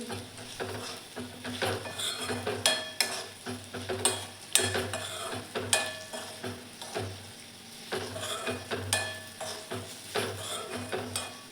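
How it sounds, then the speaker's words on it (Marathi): Bitter gourd curry with garam masala, coriander powder and a little salt is stirred in a pan: repeated scraping clinks of a spoon against the metal over a steady low sizzle, with irregular rhythmic strokes throughout and no voices. "आता सर्व व्यवस्थित मिक्स करून घ्यायचं आहे."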